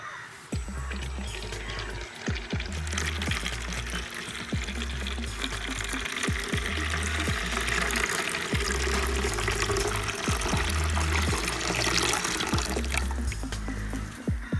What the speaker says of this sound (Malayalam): പിന്നെ നേരത്തെ എടുത്തു വെച്ച ആ പാത്രത്തിലേക്ക് ഒരു 1/2 കപ്പ് വെള്ളം ഒന്ന് ഫില്ല് ചെയ്തെടുക്കുക